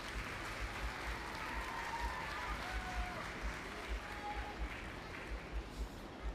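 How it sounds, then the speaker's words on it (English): Audience applause for the outgoing Dairy Princess at the Maryland Dairy Princess Contest, a steady, moderately distant round of clapping that holds for several seconds. "Let's give her a nice round of applause."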